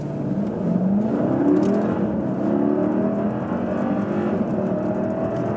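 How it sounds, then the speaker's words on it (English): Mercedes-Benz GLS, a heavy luxury SUV, pulling away from a standstill on an open road, its engine note swelling and rising through several gear changes in a smooth cabin hum, with no talking. "we can also do a short acceleration from standstill for you"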